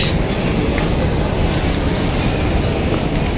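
An airplane's engines roar with a steady, loud, unbroken rush of noise, close by at an airport gate, with no voices.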